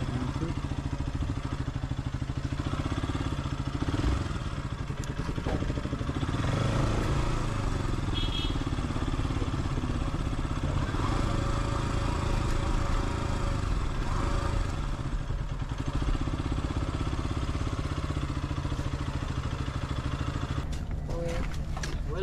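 Motorcycle engine running near a river jetty as the bike is loaded onto a launch, a steady mid-pitched drone with clatter and bumps throughout, crowd murmur and voices mixed in.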